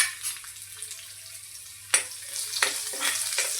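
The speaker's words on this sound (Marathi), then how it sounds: "त्याचबरोबर हिंग आणि लसण हा आपण ठेसून घेतलेला आहे तो टाकूया" Crushed garlic and asafoetida hit hot oil in a pan while cooking okra bhaji, giving a steady close sizzle with sharper bursts of crackle as they land, with no talking.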